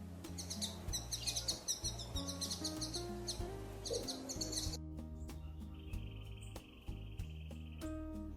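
Jamaican oriole, the banana bird, calling among fruit trees, a dense run of bright chirps and whistles, then sparser tonal calls against quieter background.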